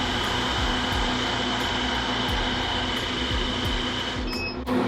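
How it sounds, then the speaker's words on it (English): The vacuum pump of a home screen printing exposure unit runs loud and continuous with a rhythmic pulsing drone, then cuts off abruptly just before the end. "once it vacuums all the way out, it's gonna turn on as far as the exposing time itself"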